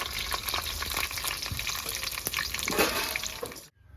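Potatoes seasoned with salt and turmeric frying in very hot oil over a village clay stove: a loud, dense, crackling sizzle that runs continuously before cutting off abruptly, with no talking.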